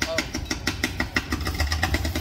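A tractor engine idles at an open-air street market in São Vicente Férrer, Itapetim, Pernambuco, with a steady rapid pulsing chug at close range while people talk over it.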